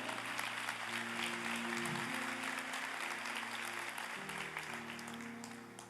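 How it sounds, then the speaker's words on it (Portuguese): A church congregation applauds during a sermon, a broad, steady clapping that fades slightly toward the end, with a sustained organ-like tone underneath. "Aplauda."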